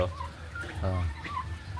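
A turkey gobbles once in a short, rattling burst, close by, over a low hum and faint farmyard noise.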